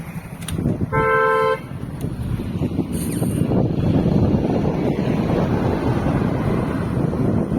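Heavy road traffic in Pune, with many vehicles queued and idling: a steady, close rumble of engines under wind buffeting, with a short car-horn toot near the start.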